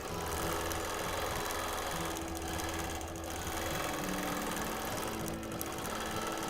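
A home sewing machine free-motion quilting, stitching to fill in a block pattern, runs in a steady continuous mechanical whir, close and even throughout with slight fluctuations in speed.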